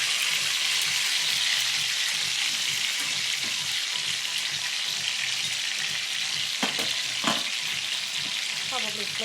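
Pork chops fry over a low flame, giving a steady, close sizzle and crackle that fills the whole stretch, with a few short scraping turns near the end.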